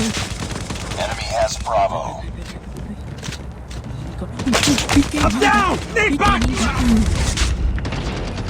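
Gunfire and explosive booms from the Call of Duty video game come in bursts and rattling volleys, with someone talking over much of the action.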